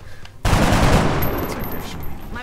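Sustained gunfire in the turn-based strategy game XCOM: Long War, a loud broadband burst that starts abruptly after a short quiet lead-in and rattles on steadily to the end.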